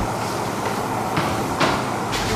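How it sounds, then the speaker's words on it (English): In a subway station, a metro train rumbles steadily nearby, with a few sharp rattling clacks breaking through the continuous low roar. "Allison, I'm in the subway"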